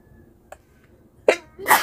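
A single sharp sneeze bursts out near the end, a close, loud human sneeze in a quiet room where t-shirts are being prepared for sublimation printing, preceded by faint small clicks.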